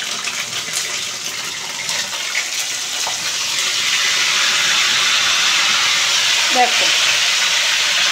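Cashew and green chilli paste added to hot oil with ginger paste, giving a loud steady sizzling hiss that swells and stays strong, with a brief spoken word near the end.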